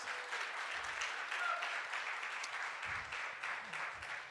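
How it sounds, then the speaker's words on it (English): An evening event audience gives sustained, fairly soft applause, a steady wash of clapping from a crowd that holds evenly throughout. "Can you give UPS a round of applause?"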